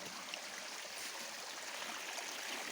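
Steady, broadband rush of water in a stream, continuous and even, with no voices or other sounds over it.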